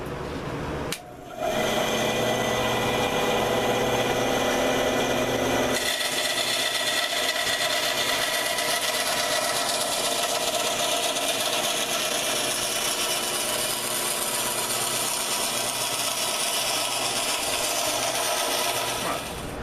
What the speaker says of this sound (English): let's go ahead and take and run it through the little bandsaw over here